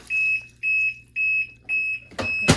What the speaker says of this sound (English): if you open this up, it'll beep. It's gonna be a little obnoxious.